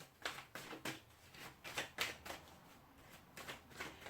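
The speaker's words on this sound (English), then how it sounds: "Even my shuffling feels like it's in slow motion." Tarot cards being shuffled in soft, repeated riffling bursts, quiet and close, with short pauses between each pass.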